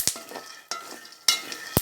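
Peanuts dry-roasting in a pan with a spoon stirring, several sharp scraping clatters and crackles spaced apart over a faint steady sizzle, close and fairly loud.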